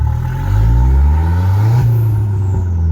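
A rear-wheel-drive Opel Calibra turbo with a heavy flywheel, its engine revving up close by in a loud, low rumbling swell that settles back toward a steady idle.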